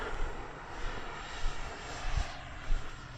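FMS F-86 RC model jet on its first flight, a steady airborne whoosh and whine that swells and fades slightly as it passes, fairly close with no voices.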